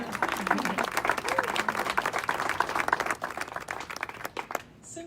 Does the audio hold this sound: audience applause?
yes